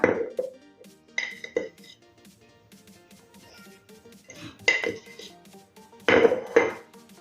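A large mixing bowl clatters and clinks against utensils in a home kitchen while paneer snack batter is prepared, with three or four short, close, bright metallic bursts separated by quiet moments and no talking.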